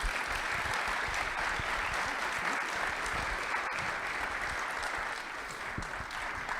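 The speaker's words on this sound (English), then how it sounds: "So we'll take a round of applause for putting up with all my questions" A crowd at the SEAHAC 2022 event applauds in a dense, steady roar of clapping that holds evenly throughout, then eases slightly toward the end.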